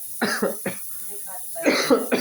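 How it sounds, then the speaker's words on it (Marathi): Several harsh coughs come in two bursts, close to the listener, with a short quieter gap between them. "नुसतं खोकला असं थांबायचं नाव घेत नाही"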